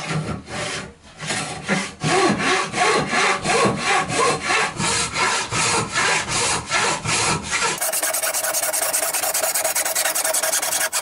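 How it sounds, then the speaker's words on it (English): A turning saw cuts curved lines in wood for a cabriole chair leg, giving steady rhythmic back-and-forth strokes, close and loud, that shift into a denser continuous rasping near the end. "slipped the turning saw into the cut to continue"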